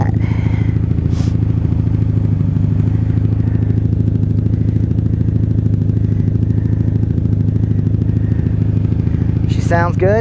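A 1997 Honda Magna VF750C cruiser motorcycle, a rebuilt wrecked bike, idles nearby with a steady, even engine rumble throughout, a brief clatter at the end, and a voice speaking over it.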